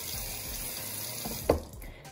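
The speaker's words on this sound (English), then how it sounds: "covering my face in water" Tap water runs into a sink during a morning face wash, a soft steady stream close by with a brief splash near the end, no one speaking.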